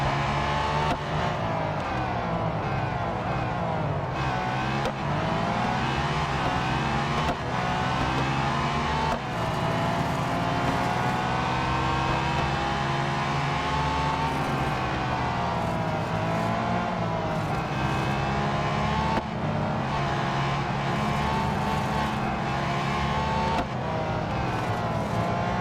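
Race car engine in the Real Racing 3 mobile racing game, a loud continuous drone whose pitch rises and falls through gear shifts and braking zones, steady throughout with no talk over it.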